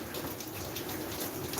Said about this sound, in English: garden are soaking in some good rain